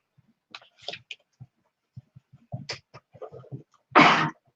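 A sharp, loud sneeze bursts out at the end after quiet clicks and soft rustling nearby.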